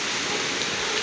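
Heavy rain pours down at night, with water reaching the camera and an areca palm swaying. The roar is dense, loud and unbroken, and nothing else is heard over it.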